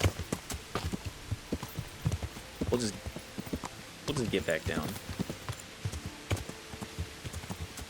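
Horse hooves clip-clop at a steady walking rhythm in the Skyrim video game, close and fairly loud, with a player talking over the footfalls.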